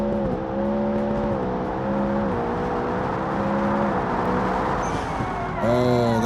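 A homemade supercar engine in the BeamNG driving game revs high and steadily, its tonal drone holding close and loud with small pitch dips at gear changes and a sharp rise in the final second.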